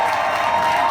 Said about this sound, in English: we've got a bigger cheer than me